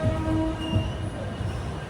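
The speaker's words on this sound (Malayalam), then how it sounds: "ട്രെയിൻ ഇതാ പൻവേൽ റെയിൽവേ സ്റ്റേഷനിലേക്ക് എത്തുകയാണ്" Duranto Express from Mumbai to Ernakulam rolling into Panvel railway station: a steady, moderately loud rolling rumble with thin, sustained wheel-squeal tones drifting over it, no talk.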